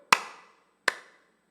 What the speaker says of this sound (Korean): 그래서 어떻게 하는 거예요? 박수 치는 거예요.